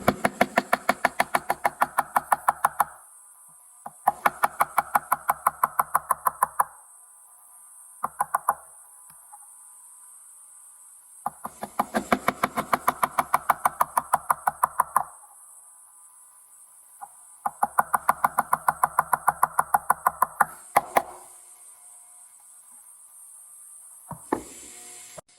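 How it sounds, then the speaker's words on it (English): Steel chisel tapped with a mallet to pare wooden half lap joints on a conference table beam, close-up bursts of rapid sharp knocks separated by short quiet pauses, with no talking. "So I just used a chisel to take off just a little."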